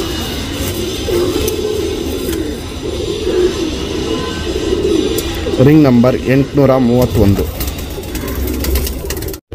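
Selected female tournament pigeons coo in a close, rolling run of low throaty calls midway through, with someone talking over steady background noise before and around them.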